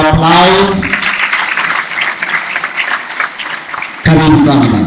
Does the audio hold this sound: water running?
no